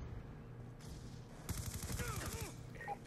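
Gunfire in the Call of Duty: Black Ops 2 multiplayer match on the Slums map, rapid bursts of automatic shots in the second half over a low rumbling game background.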